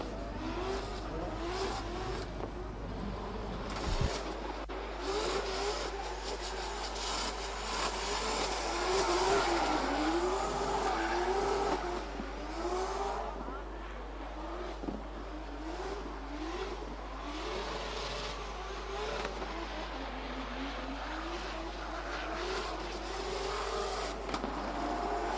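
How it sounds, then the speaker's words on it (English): Drift cars at an international drift championship in Oman, engines revving and wavering steadily for the whole stretch with rising and falling pitch, loud and continuous over a strong low rumble. "Full drift back to the pits."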